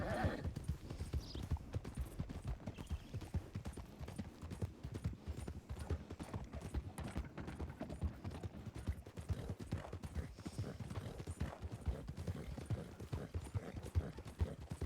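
Horse hooves at a canter in the Red Dead video game on a WildRP server, a steady rolling clip-clop rhythm close by with continuous thudding beats throughout, no talk.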